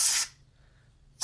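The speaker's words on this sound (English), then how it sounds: "as I'm spraying the air and it's shooting out here" Compressed air sprayed into a dusty PS4 console during cleaning, giving two loud, close bursts of harsh hiss separated by a brief near-silent pause.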